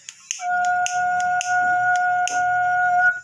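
A bamboo seruling flute plays a sustained, clear whistling tone close up, held steadily for about three seconds and broken by light percussive clicks.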